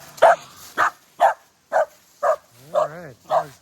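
A playful dog barks close by in seven sharp, evenly spaced bursts, the last few turning into whiny, yelping tones.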